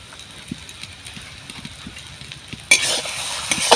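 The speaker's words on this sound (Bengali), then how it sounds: "এইবার আমি একসাথে ভালোভাবে ভেজে নেবো আলুটা।" Boiled potatoes being fried together with a pre-fried spice mix for aloo chop, with a steady low sizzle and stirring clinks that grow louder and brighter toward the end.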